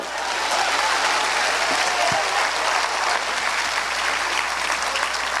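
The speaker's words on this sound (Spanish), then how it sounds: "Un aplauso al Señor" Steady, dense applause from a church congregation fills the space for several seconds, an even roar of many hands clapping at once with no voices standing out.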